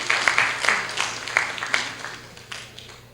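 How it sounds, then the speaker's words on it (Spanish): An audience at a criminal procedure law seminar gives a thin patter of clapping to welcome a speaker, a few distinct claps standing out before it fades quickly. "lo recibimos con palmas, por favor"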